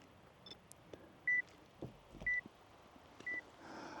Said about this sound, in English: I'm on a 10-second self-timer